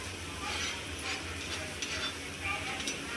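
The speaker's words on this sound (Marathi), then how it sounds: "आता आपण चांगला मसाला भाजून घेऊया तेलात." Masala spice paste frying in oil in a pan for stuffed bitter gourd, a steady soft sizzle with occasional scraping stirs, close and fairly quiet, with no talk.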